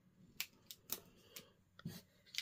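Scissors snip through a fabric zipper for a quilted pouch, several sharp crisp cuts spaced irregularly, close and fairly quiet with no speech.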